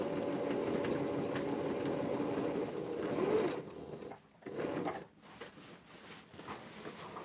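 A sewing machine whirs steadily as it stitches, then stops and starts in short bursts with brief pauses near the end.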